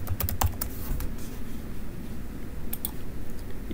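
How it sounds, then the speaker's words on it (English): Computer keyboard typing of a name while filling in a title block for an engineering drawing: a quick burst of crisp key clicks near the start, then a thin, steady background hum with a few scattered later taps. "clicking my mouse button to place the box, and typing my name."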